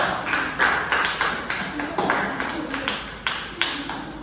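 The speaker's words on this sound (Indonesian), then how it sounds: "tepuk tangan untuk nomor 2" A small group claps for a pupil during a first-aid lesson on cuts and antiseptic in a classroom, with sparse, fairly regular close claps that keep a steady pulse for a few seconds.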